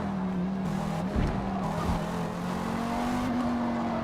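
Race car tires skidding and squealing in the Forza racing video game on the Nordschleife, over a steady engine drone with brief bursts of tire scrub, moderately loud and continuous.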